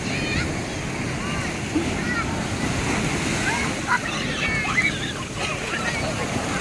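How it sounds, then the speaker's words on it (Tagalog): Strong ocean waves surge and crash at Tiwitiwi Beach in Legaspi, Albay, making a steady, loud roar of surf with wind buffeting the microphone, while faint voices call out in the background. "Lakas ng alon, grabe."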